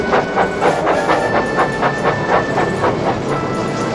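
Train running along the rails in a rhythmic clickety-clack with hissing noise, loud and steady throughout, no voices.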